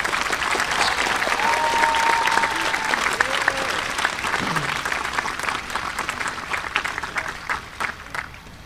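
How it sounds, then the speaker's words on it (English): A crowd at a 2024 high school graduation applauds the graduating class, a loud, continuous wave of clapping that slowly thins out toward the end, with faint voices underneath. "I would like to ask you to all join me in applauding this extraordinary class of gifted young adults"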